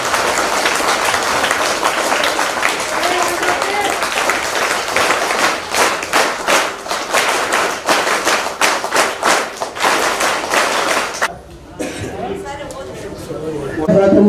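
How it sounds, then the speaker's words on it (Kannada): An audience at a school alumni reunion gathering breaks into sustained, loud applause, a dense crackle of many hands up close that dies down near the end as a voice takes over. "ಜೋರಾದ ಚಪ್ಪಾಳೆ"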